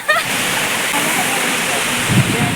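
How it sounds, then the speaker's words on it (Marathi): A monsoon waterfall roars in the background as a steady, broad wash of falling water, continuous and fairly loud, with a brief louder splash near the end. "आणि मागे मस्तपैकी धबधबा"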